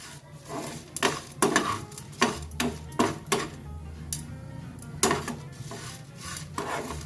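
Ingredients dry-roasting in a pan without oil for curry leaves rice, with repeated sharp scraping stirs of a spoon against the pan over a low steady sizzle, close and moderately loud.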